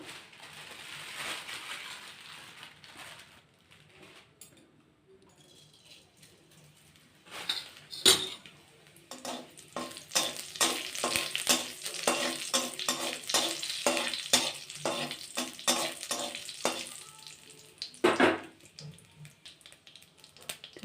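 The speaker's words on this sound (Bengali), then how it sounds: "এখন আমি কড়াতে তেল দেবো, একটু গোটা জিরে আমি ভেজে তরকারির মধ্যে দেবো" Whole cumin seeds fry in oil in a wok, a soft sizzle joined by bursts of scraping and clinking as a utensil stirs against the pan, close and moderately loud with no talking.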